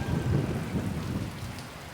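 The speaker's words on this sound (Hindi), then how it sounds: "बिजली चमक रही है, गरज रही है और साथ में जो है कहीं तेज़ और कहीं हल्की बारिश हो रही है।" Low rumbling thunder rolls beneath a steady wash of heavy rain during a thunderstorm in Karachi, loud and continuous, with no voices.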